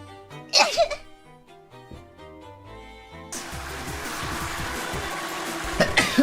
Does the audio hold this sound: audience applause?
no